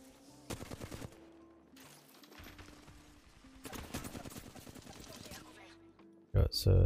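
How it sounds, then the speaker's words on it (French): Rapid gunfire bursts in Fortnite, a couple of dense volleys with a pause between them, loud and close over background game music, ending in a sharp louder hit. "ça tire au-dessus"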